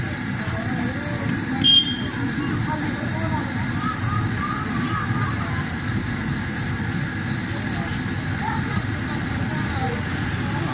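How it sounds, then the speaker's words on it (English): Masala chai bubbles at a rolling boil in a pot, a loud continuous churning hiss with faint stirring, under a steady background wash. "the tea is made to boil to develop color of the tea"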